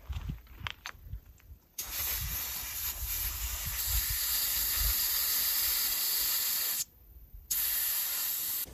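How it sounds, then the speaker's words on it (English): Air hisses steadily out of an off-road tire through a deflator as pressure is brought down to about 18 psi. The loud, continuous hiss runs for several seconds, stops briefly, then resumes, with faint knocks and handling noise at the start. "inflator to let a little bit more air out and get them down to about 18"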